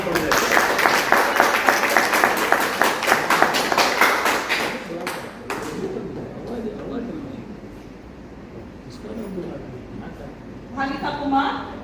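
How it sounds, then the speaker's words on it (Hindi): An audience applauds child performers at a stage show with rapid, rhythmic clapping for several seconds, then the sound fades to quieter murmuring with a brief renewed patter near the end. "ताली बजाइए, बच्चों का हौसला बढ़ जाए।"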